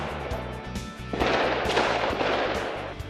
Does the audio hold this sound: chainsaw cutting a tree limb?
no